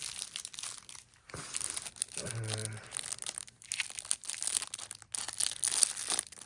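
Crinkling and tearing of a well-taped plastic trading card pack wrapper close by, with bursts of crumpling and ripping spread across the clip.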